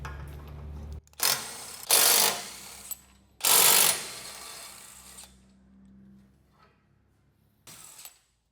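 Ratchet wrench loosening 18 mm bolts and tow hooks on the front bumper of a 2023 Ford F250, heard as several separate bursts of rapid clicking ratcheting with short pauses between them, close and loud, with no talking.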